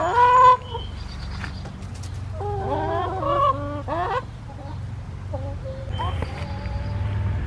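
Backyard chickens clucking and squawking in a series of nasal, honking calls, some close and loud, others softer, over steady low background noise.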